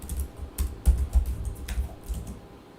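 Keys clack on a computer keyboard as a command is typed into a terminal for a Django REST Framework project, a quick, uneven run of close, crisp taps and a few louder strikes, with no talking.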